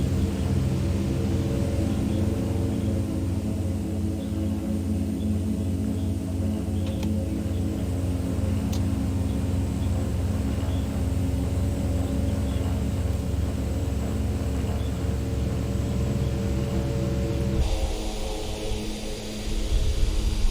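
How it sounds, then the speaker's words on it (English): A DHC-6 Otter in Microsoft Flight Simulator drones with a steady propeller and engine roar while rolling for takeoff, loud and continuous, the tone shifting near the end. "Really hard to get this airplane rolling."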